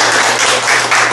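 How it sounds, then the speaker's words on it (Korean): An audience at a party members' speech contest in a hall claps together in dense, loud, steady applause lasting about a second. "감사의 박수 한 번 더 부탁합니다"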